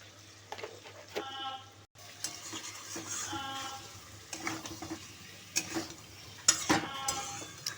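Aloo dum curry being stirred in a pan over a medium-high gas flame, with repeated scraping clinks of a spoon against the pan and a faint sizzle underneath, fairly close and steady throughout.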